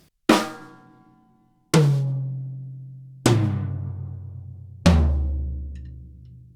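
Four separate hits on an acoustic drum kit left untuned for six months, each a loud boomy strike with a long ringing decay, evenly spaced and alone.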